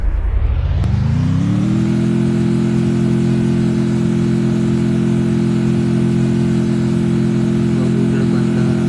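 Vehicle engine in the Free Fire battle-royale game starting up and revving, then holding a loud, steady drone as the vehicle drives continuously.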